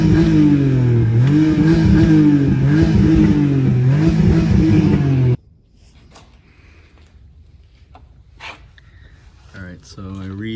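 A BMW E46 with a blown head gasket revs hard in loud, rhythmic pulses for several seconds, then cuts out abruptly into quiet, followed by scattered clanks and clatter nearby while people talk.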